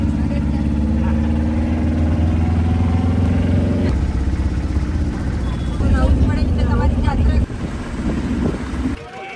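Motorised auto rickshaw ride of about 28 kilometres toward the Ganga Sagar shore, a loud continuous engine drone with wind rush that shifts pitch midway and drops near the end, with brief voices mixed in.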